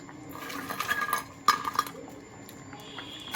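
Lentil fritters dropped one at a time into a pot of bottle gourd shukto, with a few light metallic clinks and a sharp knock against the pot amid soft stirring and liquid sounds.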